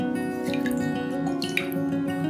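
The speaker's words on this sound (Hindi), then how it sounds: "और ऊपर थोड़ा ये करीब 50 ग्राम पानी है वो डाल देता हूँ।" About 50 grams of water poured over spread sourdough, a steady close splashing and dripping trickle that runs the full length with no talk.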